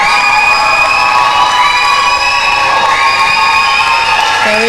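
A home-team crowd at a Europe Netball Open Challenge match between Isle of Man and Gibraltar cheers loudly and steadily, a dense wash of shouts and whoops from many voices filling the whole stretch.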